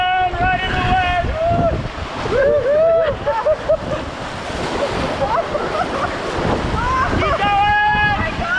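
Class 3 river rapids on the Wenatchee River roar and splash around a raft, with water rushing and wind buffeting the microphone while a guide's voice and occasional shouts come through.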